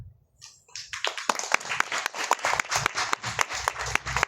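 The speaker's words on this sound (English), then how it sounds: "let's give her a round of applause" Applause from a small audience at an alliance launch event: scattered claps build quickly from near silence into steady, moderately loud clapping that continues throughout.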